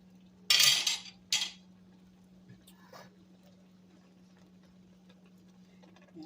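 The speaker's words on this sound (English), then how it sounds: "Rinsing my spoon off." A spoon is rinsed under a sink tap while cooking a spinach and shrimp dish, giving two short bursts of running water and clinking early on, then faint scattered clicks over a steady low hum.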